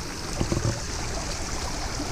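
Water pours over a small hand-built dam in a stream that feeds a canal, making a steady, close rushing trickle with no break.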